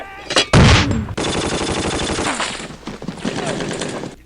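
Bursts of gunfire and rattling machine-gun fire from a World War II battle scene in Band of Brothers, loud and close. A heavy blast opens the scene, followed by sustained rapid shooting.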